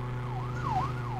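Wailing ambulance siren from a Greenville roleplay video game, a steady rising and falling tone over a constant low engine hum, loud and close with no talk.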